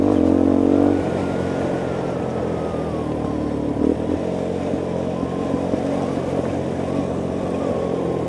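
A Fratelli Xe 125 motorcycle engine droning steadily as it rides downhill on a dirt trail, close and continuous, briefly louder at the start before settling to a low, even hum.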